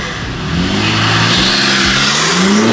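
A BMW G80 M3 engine with aftermarket modifications revs up, the loud roar climbing steadily in pitch as it accelerates nearby.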